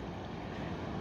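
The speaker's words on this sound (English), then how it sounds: "There's another look upstream at those rapids we were looking at earlier." River rapids rush beside a cold, wet, windy trail: a dense, steady broadband roar of churning water with wind buffeting the microphone, continuous and fairly loud throughout.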